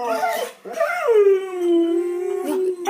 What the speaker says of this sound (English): Here are my dogs, everyone, and you can see the howling.